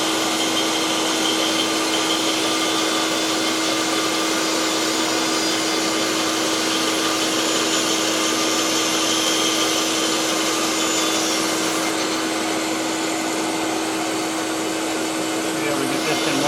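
A bandsaw runs steadily while cutting torrified wood for a birdseye dovetail saw handle, giving a constant, loud machine whine with a fixed tone that stays continuous throughout.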